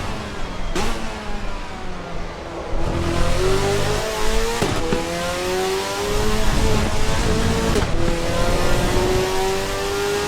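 A racing car's engine in Assetto Corsa Evo drones loudly and steadily. It repeatedly builds to a high rev whine, drops at sharp gear changes, then climbs again over about ten seconds.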